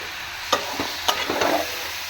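A spoon scrapes and stirs grated coconut in a kadai while cooking narkel naru, making several soft, irregular strokes over a low, steady frying hiss.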